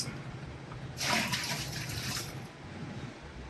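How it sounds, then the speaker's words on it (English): Six gallons of water run into a brewing kettle for an oatmeal brown ale, a steady moderate hiss of pouring water that swells suddenly, holds for over a second, then drops back to a quieter trickle. "we're gonna add 6 gallons of water here"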